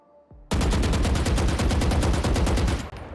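Rapid automatic gunfire from a weapon fired at a practice range bot in the Valorant video game, one loud continuous burst of about two and a half seconds, close and alone.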